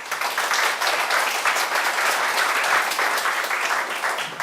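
Lecture audience giving warm applause for their parents, a continuous even wash of many hands clapping throughout, fairly distant and without talk on top.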